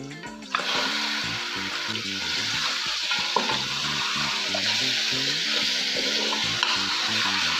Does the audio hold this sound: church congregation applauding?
no